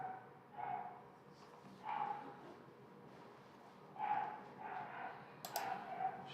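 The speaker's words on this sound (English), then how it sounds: "someone brought their dog today, and I can hear it barking and screaming from down the hall" A dog barks somewhere down the hall of an office building, giving faint, muffled yelps and barks in short scattered bursts against a quiet room.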